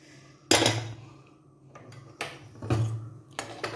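A spoon scrapes and knocks around a pan as mashed potato masala curry with turmeric and salt is stirred, with a few separate bursts of metallic scraping and clatter close by.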